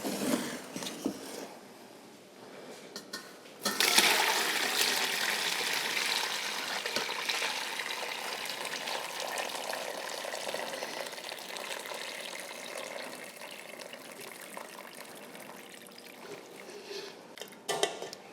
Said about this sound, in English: I have another strainer over top of my strainer on my bowl because I want to have a fine filter on this broth.